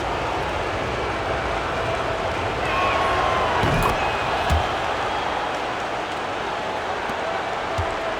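Basketball arena crowd during an NBA playoff game between the Lakers and Timberwolves, a steady broad roar of cheering that swells slightly midway, with a commentator's voice running over it.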